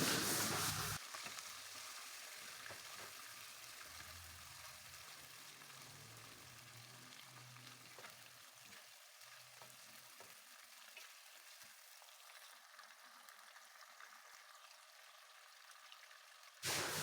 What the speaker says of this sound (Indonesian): Ini kita goreng dulu udangnya biar nanti hasilnya kenyal,